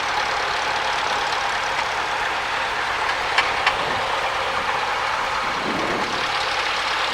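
A Cessna light aircraft engine idles at the parking area before taxi, a steady, even drone with a faint knocking texture that runs unbroken, with no voices.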